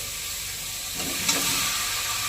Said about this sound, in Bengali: পেঁয়াজ টমেটো এগুলো কষা হয়ে গেছে তেল দিয়ে করে তো আমি এবার ডিম আর আলুটা দিয়ে দেবো